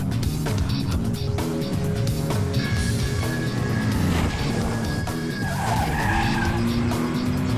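A car speeds through a chase scene in a South Indian action film dubbed into Hindi, pursued by a commissioner's car. Loud, sustained engine roar and repeated tyre skids and squeals play continuously with dense background layers, and no talk.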